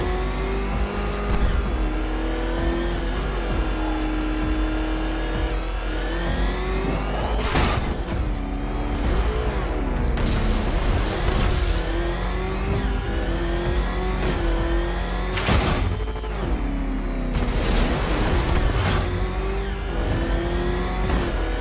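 A Batmobile speeds through Batman: Arkham Knight with a continuous loud engine roar, surging and revving in repeated bursts of acceleration with whirring mechanical tones, and no talk over it.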